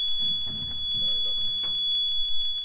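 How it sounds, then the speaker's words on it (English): A Yanmar excavator's warning alarm sounds as the key is turned, a steady electronic tone pulsing in rapid, even beeps throughout, close and fairly loud, with a few faint background noises underneath. "So I turn on the key. And we got the alarm"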